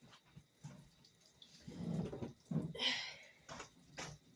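Tap water runs in a sink during face washing, heard as quiet, uneven splashing that swells and fades in short bursts, with no talking.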